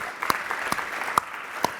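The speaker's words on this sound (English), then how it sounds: "one more final round of applause for all the speakers today" Four slow, separate hand claps at a conference summit sound faintly against a quiet room background, evenly spaced.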